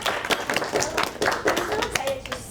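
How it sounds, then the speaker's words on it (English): Audience claps to welcome a new team member at a university faculty program session, a brief burst of separate hand claps from a modest group, fairly close and somewhat uneven. "Please give a big round of applause for Nava"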